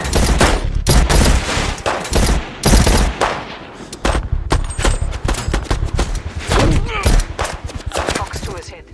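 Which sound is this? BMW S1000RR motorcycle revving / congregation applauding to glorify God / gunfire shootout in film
gunfire shootout in film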